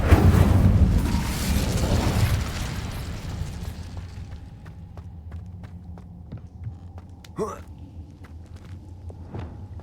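In Hogwarts Legacy an Incendio fire spell erupts with a loud whooshing, roaring burst at the start that fades over several seconds into a low hum with faint ticks and a later short pop.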